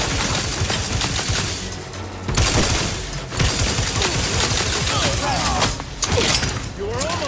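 Rapid weapon fire from The Outer Worlds 2 comes in dense, loud bursts of fast shots with mechanical clatter, broken by a few short pauses, and a voice speaks over parts of it.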